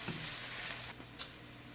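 Onions sauteing in a small amount of oil in a pan for plant-based quinoa jollof rice, giving a steady soft sizzle with a few brief stirring scrapes, close and fairly quiet.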